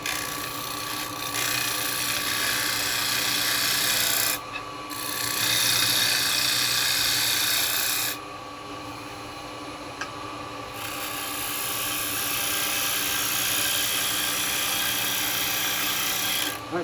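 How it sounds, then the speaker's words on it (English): A wood lathe spins a jewellery box blank of mixed woods while a round chisel scrapes along its edge, giving a continuous rasping hiss that cuts in and out in several passes over the motor's hum. "I'm just going to use a round chisel just to clean this edge out."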